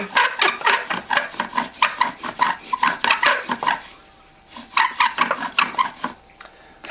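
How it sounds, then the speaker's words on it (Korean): Wooden bow drill spindle spinning in a groove on a wooden fireboard, loud close rhythmic rasping strokes in rapid back-and-forth bursts, pausing briefly midway before resuming. "처음에 이 홈 위에다가 나무를 잘 얹어놓고 살살 돌려줍니다"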